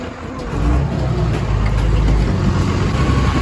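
A Maharashtra state transport (MSRTC) bus engine runs steadily after a push start, a loud, close low rumble holding constant throughout with no speech over it.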